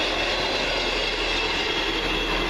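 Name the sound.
First Great Western train arriving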